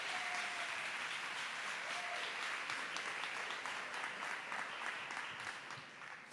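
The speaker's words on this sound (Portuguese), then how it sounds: "Pode aplaudir, pode aplaudir." A large church congregation claps continuously and densely, a loud sustained wash of applause that tapers slightly at the end.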